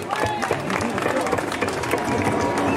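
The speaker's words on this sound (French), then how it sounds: "Allez, on l'applaudit, on la félicite." Street crowd at a teachers' protest bursting into dense sustained clapping and cheering, loud and close, with voices mixed into the noise throughout.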